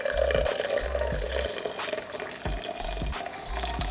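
Water pours in a steady stream over coffee grounds, a continuous close trickle and splash with a faint low thumping beneath, no voices.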